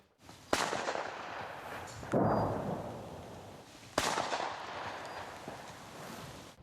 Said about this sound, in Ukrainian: Гул вибухів та пострілів зараз у Покровську не змовкає ні на хвилину.